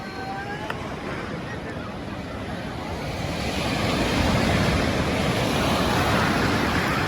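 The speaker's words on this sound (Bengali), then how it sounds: "বঙ্গোপসাগর উত্তাল, এখন ভাটা। যদি জোয়ার হইতো তাহলে বোঝা যাইতো কি অবস্থা। ওই যে বড় একটা ঢেউ আসতেছে।" Bay of Bengal surf at Laboni Beach, Cox's Bazar, during a rough ebb tide: a continuous broad wash of breaking waves that swells louder midway as a larger wave rolls in, with wind buffeting the microphone.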